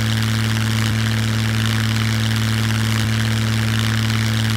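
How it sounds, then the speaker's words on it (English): A Duster propeller plane in the survival game Scum drones steadily up close, a loud, even engine hum with strong low tones and faint ticks that hold without a break. "And then we just steer the plane up."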